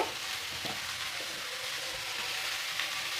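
Cabbage, beans and carrots frying in a pan for Bengali-style cabbage bhaja, a steady close hiss and sizzle with faint stirring scrapes, no voices.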